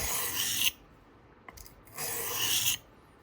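A very dull blade is drawn across a Sharpal diamond stone in two long, close rasping strokes separated by a quiet gap.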